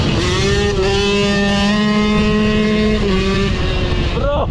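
A small two-stroke moped engine fitted with a 50cc spark plug revs hard and close, straining its piston, its pitch holding high, dipping once, then climbing again; no talking.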